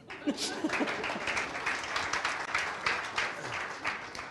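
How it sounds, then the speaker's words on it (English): Audience clapping during a recovery testimony gathering at a church, a dense patter of many hands filling the room at moderate volume for several seconds, with no one speaking over it. "that deserves a clap, I think."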